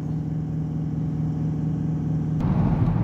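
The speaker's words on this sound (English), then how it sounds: "Okay, so we're taking the vehicle on a test drive" A Range Rover 4.4 diesel on a test drive gives a steady low engine rumble heard from inside, swelling to a louder rough roar near the end as it accelerates; no talking.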